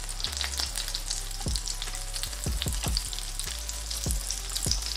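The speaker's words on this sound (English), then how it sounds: "And make sure to baste it with hot oil just so we can get an even color." Fish crackles and sizzles steadily in hot oil in a pan as it is fried and basted, with several soft low thumps as spoon or fish shifts, loud and close without talk.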